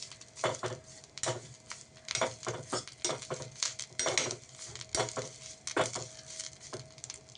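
Curry leaves fry in a pan for a curry leaf laddu, with a spoon scraping and stirring in repeated irregular strokes over a soft, continuous sizzle.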